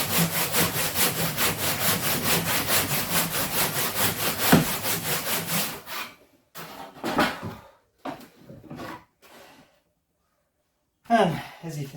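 A handsaw cuts through wood with steady rhythmic strokes for about six seconds, loud and close, then gives way to a few scattered bumps and a voice speaking briefly.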